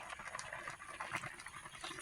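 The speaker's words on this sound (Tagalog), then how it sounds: "Kumukulo na rin siya" Quiet, steady bubbling and light popping of homemade pineapple jam simmering in a pot, close by with no voices.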